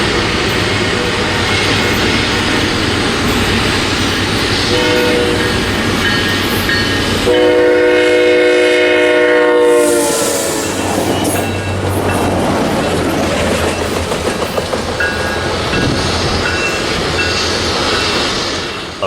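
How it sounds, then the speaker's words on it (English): SunRail P320 commuter train rolling southbound, empty of passengers: a loud close rumble and clatter with a long multi-tone horn blast in the middle, then continued wheel noise as the cars pass. "SunRail P320 moves southbound with no passengers"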